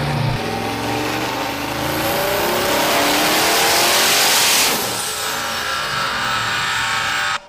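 A Lamborghini Huracan fitted with an LS engine revs hard on a dyno, its loud engine note sweeping steadily upward over several seconds before easing off, close and continuous.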